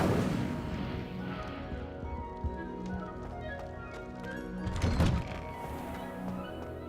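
A fire spell is cast in Hogwarts Legacy. The game scene holds steady music and ambience, with soft thunks along the way and a louder whooshing burst about two-thirds of the way through, with no talking.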